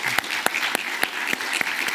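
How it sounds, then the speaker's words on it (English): An audience applauding speakers at the close of a panel discussion on open-source language models, a dense, steady clatter of many hands clapping close by, unbroken for two seconds. "a good round of applause for our speakers"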